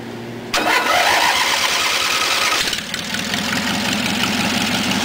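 A 1980 Dayton GT engine, just back from fuel system repair, turns over and fires up, then settles into a loud, steady idle up close with a slight dip partway through, and no one speaks.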